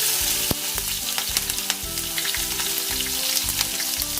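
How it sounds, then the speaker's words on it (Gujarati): Mustard seeds crackle and pop steadily in sizzling hot oil, a close, continuous frying hiss with scattered sharp snaps and no voices. "અહીં આપણી રાઈ સારી રીતે ક્રેકલ થઈ ગઈ છે"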